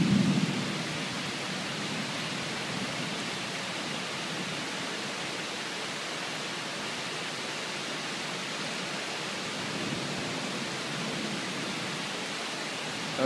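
A night thunderstorm recorded from a bathroom window: a steady, even wash of heavy rain with low thunder rumbling underneath, slightly louder at the very start and continuous throughout.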